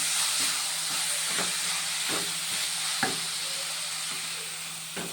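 Squid stirred in a hot pan with turmeric powder, a steady sizzle and hiss running throughout, broken by sharp scrapes and taps of the spoon against the pan roughly every second.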